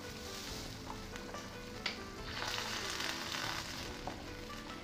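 Corn drops into a pot of boiling water with carrots and beans, with a soft splash amid continuous bubbling and sizzling hiss at moderate volume, no voices.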